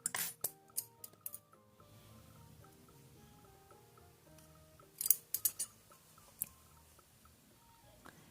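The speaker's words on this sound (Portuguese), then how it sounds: "E vamos cortar a nossa linha." Scissors snip through crochet thread in a quiet room, several crisp separate cuts spread across the clip, a few clustered close together.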